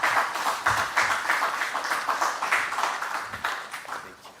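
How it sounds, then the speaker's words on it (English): Seminar audience applauding a speaker, a steady patter of many hands clapping at close range, even and sustained for several seconds before gradually thinning out. "Round of applause for him, please."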